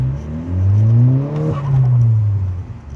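A 2012 Volkswagen Golf R engine while driving, rising in pitch as it accelerates, dipping at a gear change around the middle, then pulling up again; loud and close from inside the car, with no talk.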